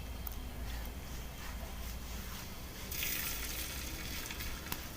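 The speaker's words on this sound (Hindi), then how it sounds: "अब हम इसके अंदर एक एक करके ये पकोड़े डाल देंगे।" Potato and onion pakoras dropped one by one into hot ghee in a kadai, a steady soft sizzle and bubbling that brightens partway through as more batter hits the oil, quiet and close with no talking.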